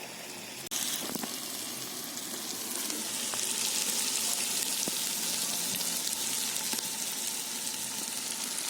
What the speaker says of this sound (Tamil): நல்லா வதக்கணும்ப்பா